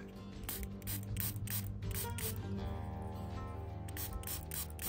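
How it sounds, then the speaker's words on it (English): A spray bottle sprays a coin with a steady hissing spray running continuously, fairly close, with faint pulsing bursts layered over it and no voices. "Let's do a spray job on it."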